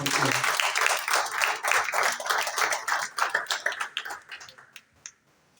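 A church congregation gives a loud, dense round of applause with sharp individual claps, which thins and fades out near the end.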